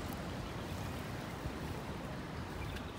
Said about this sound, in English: Look at that water.